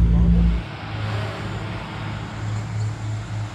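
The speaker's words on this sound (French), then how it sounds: "toutes les voitures qui sont en train d'être placées" Car engines idle and rumble at low speed nearby, with a low steady drone and faint mechanical hum, no talking.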